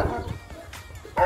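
Two big puppies give a few short, close barks and yips, separated by brief pauses, with a louder bark at the end and some voices faintly in the background.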